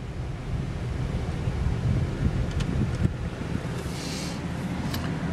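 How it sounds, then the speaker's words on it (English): Steady air conditioning blows inside a 2008 Chevy Silverado 1500 4x4, a broad, even whoosh of airflow with a few faint clicks and no talking. "we'll go ahead and turn the AC on."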